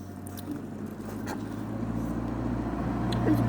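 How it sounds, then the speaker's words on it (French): Car passing by on a street, a steady low broadband rumble that slowly grows louder and closer over a few seconds, with no talk over it. "on attend que la voiture passe"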